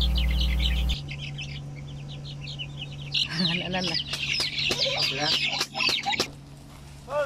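Chickens and chicks cluck and chatter busily at close range, a dense run of sharp, repeated calls after a brief steady hum at the start.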